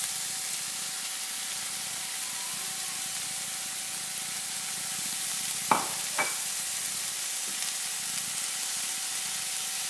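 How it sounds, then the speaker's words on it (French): A tuna filling cooking in a pan, a soft steady hiss of frying throughout with a couple of brief clinks of a utensil partway through, close and fairly quiet. "Je vais les laisser revenir quelques minutes, juste pour les réchauffer et amalgamer l'ensemble."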